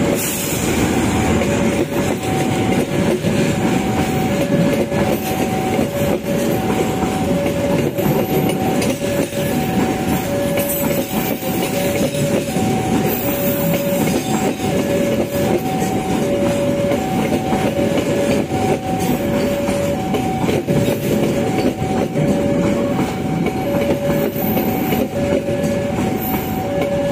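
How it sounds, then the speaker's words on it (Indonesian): Mutiara Selatan passenger train rolling past a level crossing near a station: a loud, continuous rumble of cars and wheels, with a steady, evenly spaced crossing-bell ding repeating throughout. "rangkaian kereta api Mutiara Selatan masuk"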